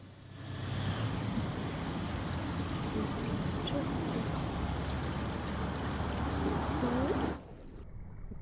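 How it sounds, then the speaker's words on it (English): Steady running water pours continuously at close range, a broad even rush that holds for about seven seconds before cutting off abruptly, with no voices over it. "this is the slow motion of flow of water running"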